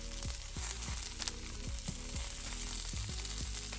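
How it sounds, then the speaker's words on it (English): Thyme and garlic cloves fry with eggplant in a pan, a continuous soft sizzle broken by a series of quick scraping or tossing movements, fairly quiet and close. "Now we'll throw some thyme and garlic cloves on the same pan"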